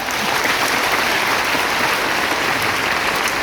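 Sustained, dense applause from a large audience at an indoor product seminar, steady and loud throughout with no voices standing out.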